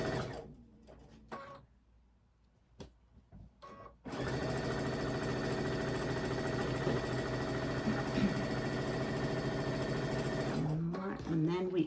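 A sewing machine chain-pieces quilt blocks, running steadily and close for most of the stretch after brief talk and quiet handling, then slowing to a stop.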